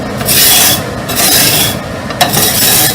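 A utensil scrapes the bottom of a large cooking pan with a little oil, making loud, close, raspy strokes in several back-and-forth bursts with short pauses, and no talking.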